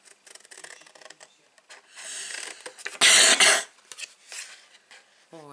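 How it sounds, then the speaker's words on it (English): A single loud coughing fit from a crafter at a paper-crafting desk, a harsh burst of about half a second standing out above quiet rustling and handling noises. "Oh, I got a terrible cough."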